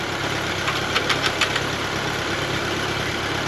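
A 1939 Ford 9N tractor engine runs steadily, a continuous rough mechanical drone with a few faint knocks, close by and with no voices over it.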